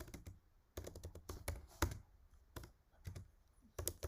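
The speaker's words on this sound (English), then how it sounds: "So I'm just gonna type it down here." Typing on a computer keyboard, a close run of quick key clicks in irregular bursts with short pauses between them, no talking.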